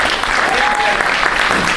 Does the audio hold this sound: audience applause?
yes